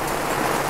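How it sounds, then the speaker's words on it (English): Steady, dense hiss of rain falling, a continuous wash of fine droplets with no voices. "It's legit raining out here now, people."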